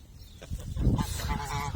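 Geese on a farm honking in a short burst, several nasal calls overlapping and rising in loudness, close by with no speech.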